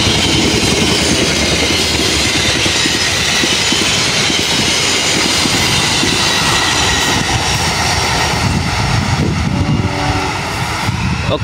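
A Logawa train hauled by a vintage locomotive with stainless steel Sri Tanjung executive carriages passes very close, a loud continuous roar and rumble of wheels on rails that fills the whole stretch and eases slightly near the end.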